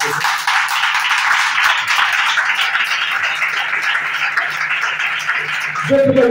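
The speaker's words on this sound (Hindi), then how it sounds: "केमान को मते जोरदार ताली मारो" Congregation at an Odia Christian marriage anniversary service clapping loudly, a continuous dense patter of many hands that holds steady before a voice cuts in at the end.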